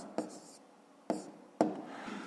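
Pen strokes on paper during a fifth-grade maths lesson: three short, sharp scratches spaced apart, with a faint scraping texture trailing the last, close and quiet with no talk.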